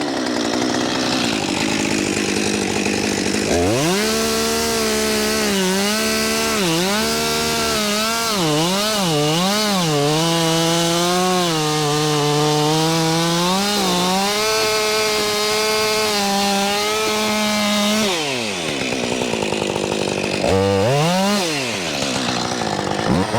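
A chainsaw cuts into a standing tree during felling, its engine loud and close, revving and bogging as the chain bites, then dropping away near the end before a brief final rev.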